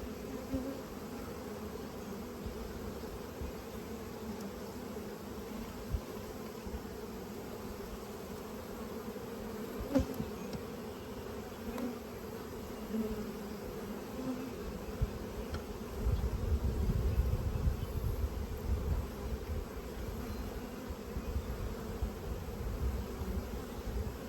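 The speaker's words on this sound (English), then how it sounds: "These are all nurse bees" Honey bees at an open spring hive with frames of nurse bees give a dense, continuous buzzing drone. The hum is close and steady and swells louder for a few seconds partway through.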